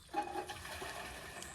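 Water from a hand pump is poured out in a short splashing gush, faint and somewhat distant, in a village home during a power outage.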